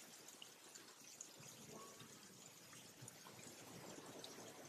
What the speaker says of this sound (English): This is a small waterfall.